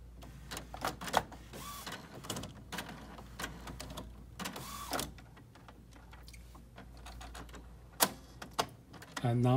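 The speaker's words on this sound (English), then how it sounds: "now you can see the printer is adjusting all the internal components and make sure they're in the correct position" An Epson WF-3620 printer runs its internal mechanism, giving bursts of whirring motor and repeated mechanical clicks and clacks, close and fairly loud, with brief pauses between the sequences.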